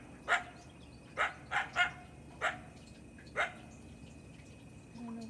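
A coyote barks in the open at night, six sharp, fairly close barks spaced irregularly over several seconds, with quiet background between them.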